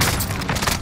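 A frag grenade in a first-person shooter game goes off in a loud, close, rumbling burst that fills the whole short moment.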